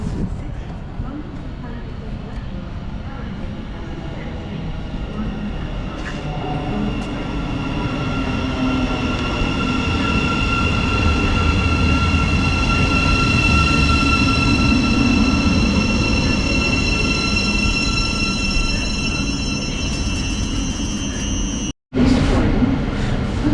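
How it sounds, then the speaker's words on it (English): A train rumbles past close by with a steady rolling roar and high metallic squealing tones, growing louder midway before a brief dropout near the end. "That's my train right there."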